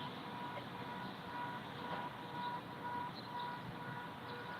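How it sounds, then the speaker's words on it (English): A car alarm sounds outside during an outdoor memorial vigil, its steady electronic beeps repeating faintly over a constant background hum. "Sorry about the car alarm"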